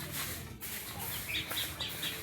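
Turkeys clucking in a series of short, bright calls, with a brief burst of wing flapping, fairly close and alone without talk.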